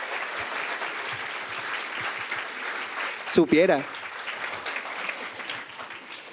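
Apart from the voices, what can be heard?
audience applause for Joseph Gillan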